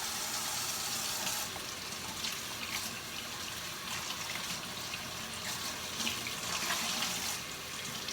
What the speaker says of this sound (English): I just rinse it for a little bit. I want to make sure that I get any dye out.